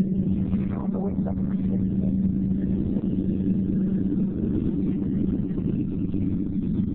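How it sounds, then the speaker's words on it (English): An idling car engine at a Fiero car show runs loud and steady with a deep rumble throughout, close by, with faint crowd chatter in the background. "Okay, we got a car fired up here. It sounds a little loud"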